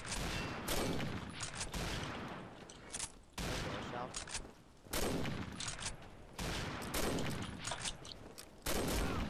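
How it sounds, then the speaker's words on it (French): Dense bursts of rapid gunfire from the shooter game Combat Arms, loud and sustained, coming in repeated volleys with short gaps, with players talking over it. "T'entends pas les tirs depuis tout à l'heure?"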